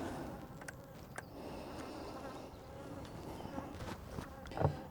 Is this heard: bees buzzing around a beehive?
yes